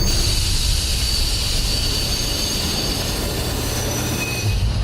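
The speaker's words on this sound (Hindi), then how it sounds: "ट्रेन स्टेशन पर आकर रुकती है।" A train pulling into a station and braking to a halt, loud and close, with continuous high metallic wheel squeal over a deep rumbling roll of the carriages throughout.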